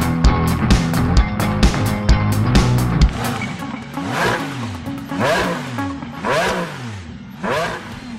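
A 2015 Subaru Forester with its 2.5-liter four-cylinder Boxer engine revs and accelerates hard, the loud engine note climbing in repeated sweeping pulls through the gears, close and with no talking.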